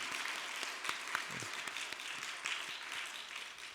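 A church congregation applauds during a Sunday worship service, steady clapping from many hands filling the room for a few seconds at moderate distance with no talk over it.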